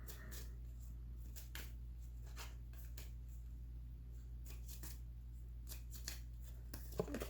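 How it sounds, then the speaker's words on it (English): A small stack of Rider-Waite tarot cards, about a quarter of a deck, shuffled by hand in a quiet room, giving repeated soft riffling bursts at an irregular rhythm, close and faint. "I'm just shuffling this little tiny 1/4 of the Rider-Waite Tarot deck."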